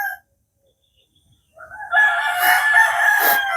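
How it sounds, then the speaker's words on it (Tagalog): A rooster crows loudly and nearby in the early morning in the countryside, one long drawn-out call after a brief earlier cluck and near silence. "Ito kasi yung oras ng pagtalaok ng manok."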